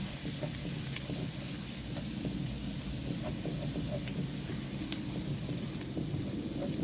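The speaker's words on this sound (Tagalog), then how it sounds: "lagyan na natin ang ating bawang. Para magisa siya." Garlic sautés in a pan for spaghetti with a continuous, even sizzle and hiss. Faint ticks and pops are scattered through it, and no voice is heard.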